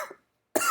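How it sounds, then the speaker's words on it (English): A single person gives a short, harsh cough, trailing off into silence before another burst of coughing begins, close and abrupt. "I hate coughs."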